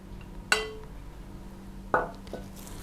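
A utensil clinks against a bowl while gram flour, cornflour and spices are mixed together: two sharp, ringing taps about a second and a half apart, then a softer knock, over a quiet kitchen background.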